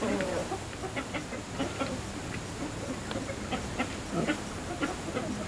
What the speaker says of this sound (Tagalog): Pakainin ko muna yung mga manok